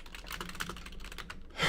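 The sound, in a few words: clunky computer keyboard typing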